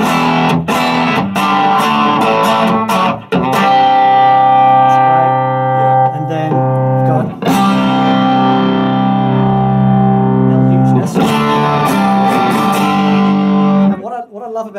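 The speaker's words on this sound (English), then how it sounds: "This is the Clon, the Archer" An electric guitar played through an Archer Klon-style overdrive pedal: sustained, gritty chords and picked notes with sharp attacks, loud and close, running steadily for about fourteen seconds before cutting off.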